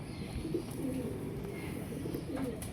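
Pet pigeons coo in a loft, soft repeated throaty coos from several birds close by against a steady background hum.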